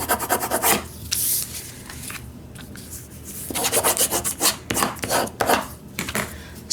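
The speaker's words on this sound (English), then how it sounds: "I'm going to burnish it again." Bone folder rubbed firmly over folded paper in a journal, producing close, dry scraping and rubbing strokes in uneven bursts with short pauses.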